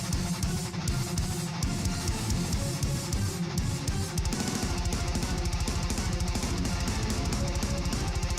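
Two electric guitars chugging palm-muted riffs for a game soundtrack, a dense, loud, distorted wall of sound with rapid steady low pulses tightening in the second half, no voices.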